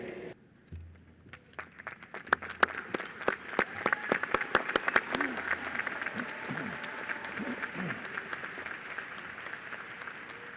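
Audience at a spring commencement ceremony applauding the faculty, clapping that starts sparse with a few sharp claps and builds into steady, dense applause, with faint voices underneath.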